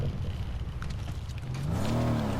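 A car engine in the video game Fortnite, a low motor drone that rises in pitch as the vehicle revs and accelerates, heard close up with game noise and no talking.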